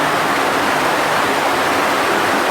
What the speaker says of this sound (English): all this echoiness and water sounds